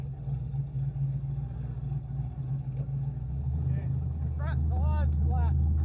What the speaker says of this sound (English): I just wanted to have a good skid.